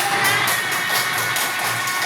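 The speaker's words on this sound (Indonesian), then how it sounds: "Beri tepuk tangan untuk kita semuanya." A class of children at an elementary school clapping together, a dense burst of applause with a faint cheer, loud and close, lasting about two seconds.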